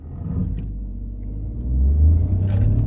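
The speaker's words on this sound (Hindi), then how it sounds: "मैं गाड़ी को थोड़ा सा हाई रेव करूँगा" A 2022 Peugeot 2008 Allure in sport mode produces a low engine rumble that swells as it revs higher, steady and close, with no talking.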